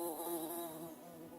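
Bees humming, a close, steady buzzing drone with clear harmonic layers that wavers slightly in pitch, faint and alone without any voices.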